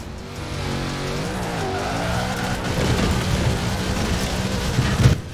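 A Ford Transit van drifts in Forza Horizon 4: a droning engine with shifting pitch runs under sustained tyre squeal, growing louder toward the end with a brief sharp burst near the close.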